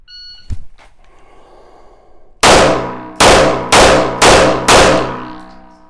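Five loud pistol shots ring out in quick succession on a red dot drill, each sharp crack followed by a short ringing decay, after a brief faint click and quiet pause.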